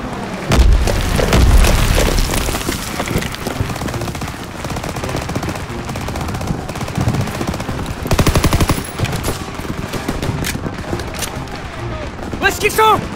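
Dense automatic and machine-gun fire with booming explosions rolls continuously through a Call of Duty WWII trench battle, loud and close, while a voice shouts over the din.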